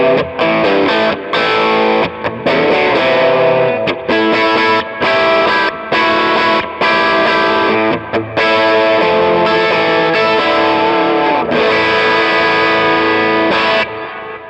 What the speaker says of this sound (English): It's a small amp turned up.